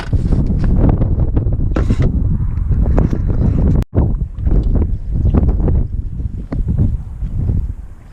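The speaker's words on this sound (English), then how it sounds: "I've got my back to the wind, trying to block it." Strong wind buffets the microphone at a lakeside fishing spot, a loud continuous roar with gusty surges and one brief dropout midway, no voices.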